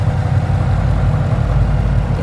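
A 2012 Ford Mustang Boss 302 V8 with an aftermarket exhaust idles close by, a loud, steady, deep rumble that holds even throughout.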